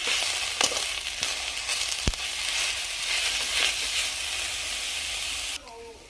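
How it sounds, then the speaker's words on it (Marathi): Green chickpea leaves sautéing in a pan with crushed peanuts, salt and chopped coriander give a steady close sizzle and hiss, with a few stirring scrapes and knocks, before the sound drops off sharply near the end. "थोडा वेळ भाजी परतून घ्यायची आहे"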